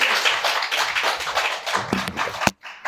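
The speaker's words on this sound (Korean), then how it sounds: "우리 박수로 환영하시죠" Church congregation clapping in welcome for a visiting pastor at a Korean Sunday service, a short fairly quiet patter of hands with a few sharper claps near the end before it cuts off abruptly.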